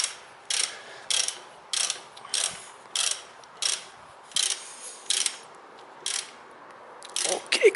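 A ratchet tightening a bolt on a 1992–2002 Toyota Corolla engine during timing belt work, about a dozen evenly spaced clicking strokes, close and crisp, with no talking.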